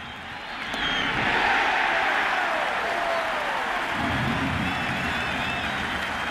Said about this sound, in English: Clemens delivered as he shut down the Diamondbacks and threw the crowd into a frenzy